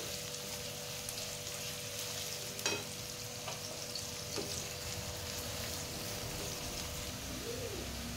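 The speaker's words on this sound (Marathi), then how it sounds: "तेजपत्ता टाकून घेऊया. परतवून घेऊया व्यवस्थित." Bay leaves and onion sautéing in oil for chicken biryani, a steady soft sizzle with a few clinks of stirring, while birds coo and chirp in the background.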